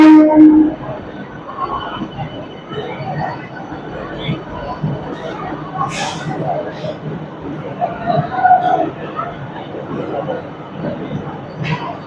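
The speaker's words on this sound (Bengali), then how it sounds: "তিন নম্বর প্ল্যাটফর্মে ট্রেনটা দিয়েছে" Sealdah–Ranaghat AC local train standing at platform three in the evening, with a steady rumble and station bustle, a brief high horn-like tone early on and people talking throughout.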